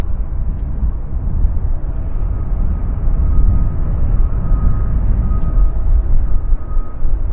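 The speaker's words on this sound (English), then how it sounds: "the aircraft are powering up for departure and rolling at high speed" Jet aircraft at Vancouver airport powering up and rolling for departure, a steady, loud broadband roar with low rumble that holds throughout, heard from an open viewing platform with no talk.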